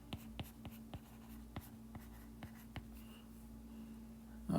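Someone writes an equation on a board, and the surface gives a series of sharp taps and short strokes in an uneven rhythm. The sound is close but quiet, with a low steady hum behind it.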